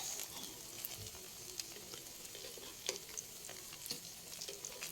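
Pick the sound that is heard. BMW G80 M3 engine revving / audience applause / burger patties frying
burger patties frying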